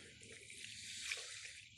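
Water pours steadily into a cooking pot for soup, a close, continuous splashing hiss without pauses.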